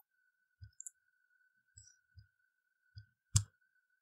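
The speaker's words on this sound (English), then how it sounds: "when I'm giving a click on a button" A few isolated mouse clicks on a web page button, short sharp ticks spaced apart over a faint steady hum, with one louder click near the end.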